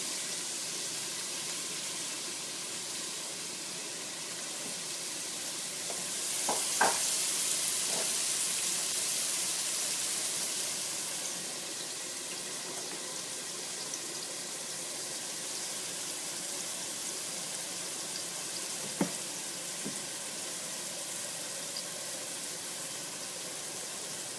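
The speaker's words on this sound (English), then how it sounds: "Add our onions first. That's the sound you want to hear, everybody." A soft, steady sizzle of onions frying in bacon fat for beef chili hisses throughout, with a brief brighter burst early on and a few faint clinks.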